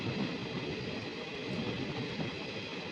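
A passenger train runs on the outer tracks before Prayagraj Junction. It gives a steady low rumble with a faint rhythmic wheel clatter, moderately loud and with no voices.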